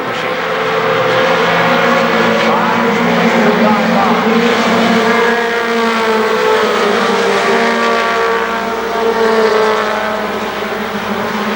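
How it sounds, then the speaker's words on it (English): Race cars roar continuously at speed around the KilKare Speedway oval during a race, a loud, sustained engine drone with shifting pitch as cars pass, under an announcer's steady commentary. "He'll set his sights on the number 2 car, which is the 2nd car in the race, and also numbered number 2, Randy Donahue"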